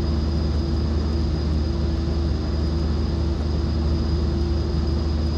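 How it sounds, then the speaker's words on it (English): A light aircraft taxis toward the ramp at Flagstaff after landing, its engine giving a steady, continuous drone with a constant hum throughout, close and loud with no pauses. "Just going to taxi on down here to the ramp."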